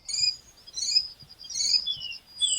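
A bird chirping in a series of short, bright high-pitched tweets, repeated in about five bursts, clear and close with a faint low rustle underneath.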